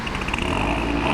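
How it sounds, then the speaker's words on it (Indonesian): A Toyota Fortuner SUV pulling up with its engine running, a steady close motor hum with a slight rhythmic pulsing, moderately loud and brief, no talk over it. "Kita kedatangan mobil lagi"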